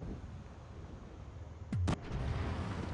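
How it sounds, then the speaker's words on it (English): Tank cannon shots in World of Tanks Blitz: one sharp blast with a sweeping whine-like trail, then a second burst, standing out over steady engine and battle rumble. "I take some very poorly aimed shots here"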